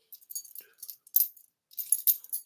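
A dog's metal chain jangles close by in a few short bursts of bright clinking and rattling, separated by brief silences.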